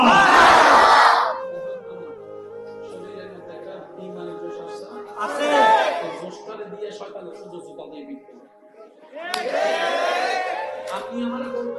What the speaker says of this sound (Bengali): উচ্চ আওয়াজে একবার বলেন মারহাবা।